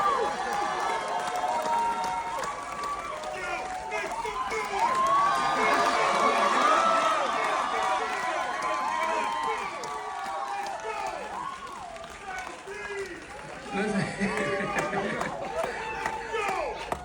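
Crowd at a cast introduction for One Battle After Another cheers and claps for writer-director Paul Thomas Anderson, a steady roar of whoops and applause swelling mid-way, with a host's voice over it.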